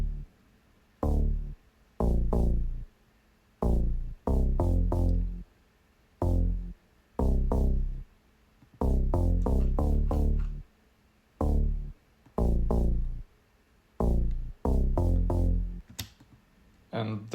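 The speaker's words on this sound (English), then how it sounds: "I layered it with just a teeny tiny bit of noise from Free Oscillator" A synth bass remade in Harmor for a song, layered with a faint wash of oscillator noise, plays short punchy notes in a bouncing, syncopated pattern, each note stopping cleanly before the next, heard alone and up front.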